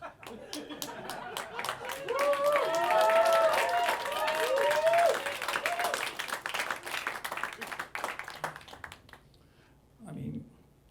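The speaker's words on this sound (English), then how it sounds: "That's an applause break" A comedy show audience claps and chuckles at a stand-up set, a brisk burst of applause with laughter woven through that fades out over several seconds, ending in near quiet with a brief low sound at the end.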